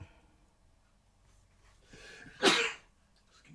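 A single sharp sneeze bursts out after a brief inhale, loud and close, then quiet returns.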